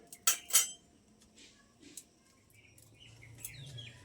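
A metal wok (kadai) is set down on a home kitchen stove before semolina is fried: two sharp, loud metallic clanks in quick succession, then a quiet room with faint birds chirping in the background.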